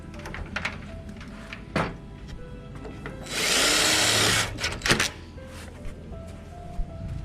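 A power drill whirs in one steady burst of about a second and a half, setting screws in a pool enclosure screen door, with scattered clicks and knocks of handling before and after.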